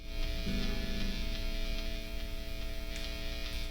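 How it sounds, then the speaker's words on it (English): A steady electric hum with a high buzzing edge, constant and fairly quiet, from a single-coil electric guitar pickup humming through an amplifier, with no voices. "because single coil is hum"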